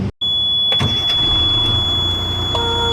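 Diesel engine of a 5-ton military truck idling nearby with a steady low rumble, a brief cut at the start, and a few knocks and a rising whine over it.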